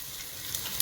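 Garlic and ginger frying in oil for a meat pie filling, a soft steady sizzle with faint crackles, close and alone without talk.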